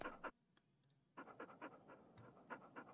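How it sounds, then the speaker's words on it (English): A greyhound in the game Stormworks pants close by in quick, rhythmic breaths, with a short pause near the start before the steady panting resumes. "Oh, there's a dog."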